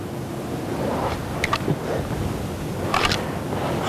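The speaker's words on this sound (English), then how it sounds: "It's windy." Steady wind rushes and buffets outdoors, a broad roar with a few faint chirps or squeaks standing out briefly.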